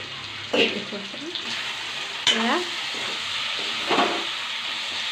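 Local chicken with sesame sizzles and spits in a hot pan, a steady frying hiss broken by a few brief stirring scrapes, close and clear with no voices.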